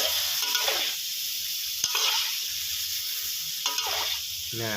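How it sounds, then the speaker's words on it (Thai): Bean sprouts stir-fried with yellow tofu, spring onion and red chili in a hot pan, a steady loud sizzle with periodic scraping strokes of the spatula, close up and with no talking. "ใส่เต้าหู้ลงไปเลยนะครับ แล้วก็ตามด้วย ต้นหอมพริกแดงนะครับ ผม จากนั้นก็ผัดคลุกเคล้าไปเรื่อยๆนะครับ"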